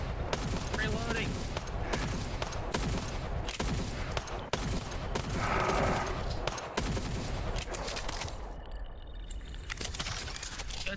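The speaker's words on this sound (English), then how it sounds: "Good shooting." Rapid gunfire in a video game battle, with sharp shots and bursts repeating steadily throughout, loud and close, with voices partly mixed in.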